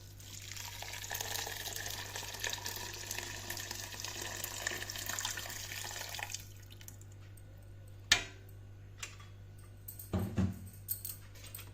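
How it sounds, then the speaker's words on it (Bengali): Hot water pours into a pot of rice and lentils with a steady, quiet splashing flow that stops partway through. A low hum and a few soft clinks and knocks follow. "এর মধ্যে এবার আমি গরম জল করে রেখেছি, সেই গরম জলটা দিয়ে দিচ্ছি।"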